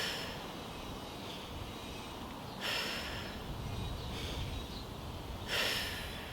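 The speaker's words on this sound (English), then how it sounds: "We've got the breathing in through the nose, out through the mouth." Slow breathing in a kids' Pilates session, in through the nose and out through the mouth: two clear exhales at a steady pace, close and soft over a constant background hiss, with no talking.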